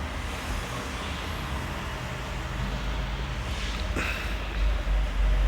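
Car engine in a video game, a steady low rumbling drone with broadband roadway-like hiss that swells slightly toward the end, heard alone without talk.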